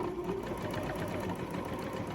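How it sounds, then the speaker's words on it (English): Sewing machine zigzag-stitching over elastic and a fabric tag, with a steady, close mechanical whir and rapid needle chatter running continuously and alone. "Sewing right over your tag."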